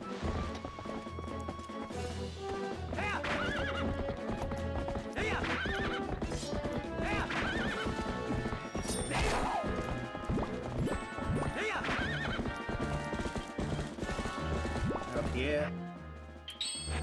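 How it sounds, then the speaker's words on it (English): A horse neighs and gallops with rapid clip-clop hoofbeats in The Legend of Zelda: Twilight Princess, loud and busy alongside crashing game effects and music, with a person talking over it. "Get on the horse."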